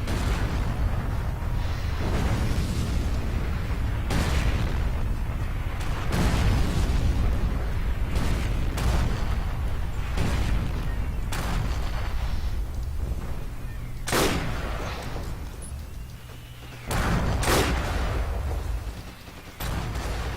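Mortar shells bursting in Forza-free WWII shooter Forgotten Hope 2 at Pointe du Hoc: repeated heavy booming explosions, some sharp and close, others duller, over a constant rumbling battlefield roar.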